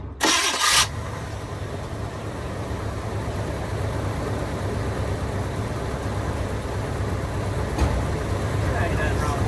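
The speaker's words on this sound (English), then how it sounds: "It's a little high on the idle, but I kind of like it a little high on the idle just in case of traffic." A Squarebody Chevy Blazer, back on the road after 20 years, opens with a brief loud burst and then settles into a steady, close engine rumble at a slightly high idle.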